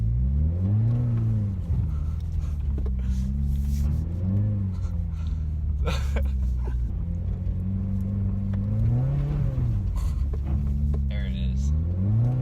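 A Subaru car passes close by with its engine revving in rising and falling surges, deep exhaust rumble steady throughout, and people talking over it.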